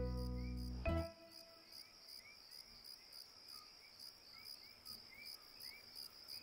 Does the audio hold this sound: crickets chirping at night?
yes